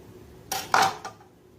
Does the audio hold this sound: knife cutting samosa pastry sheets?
yes